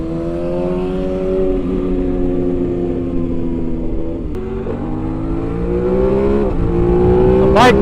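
A motorcycle engine revs up on a wet road, its steady rising whine climbing in pitch, loud and close, with a sharp burst of revs at the very end.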